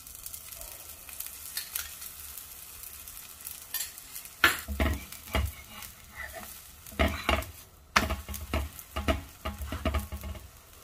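Spinach dosa batter fries in oil on a pan with a low, steady sizzle, broken by louder clusters of spatula scraping and tapping close by.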